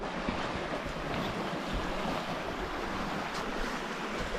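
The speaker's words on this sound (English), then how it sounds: "This is straight up brook trout stream." Continuous broadband rush of a flowing brook trout stream on the Blue Ridge Parkway, steady and close, with no voices over the water.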